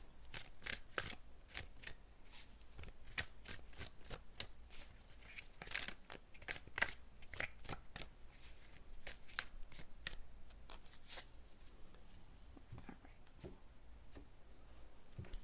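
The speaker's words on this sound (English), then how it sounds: "let me pull some clarifying cards, get a little more information" Tarot cards being shuffled and drawn, a quiet close run of crisp riffling snaps and soft flicks in an irregular rhythm, with no talking.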